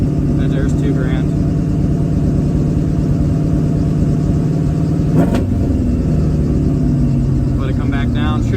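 A 1985 Chevy square body's engine with a freshly welded exhaust runs at a steady, heavy rumble, with a blip of revs before it settles back toward idle. Someone talks over the engine noise.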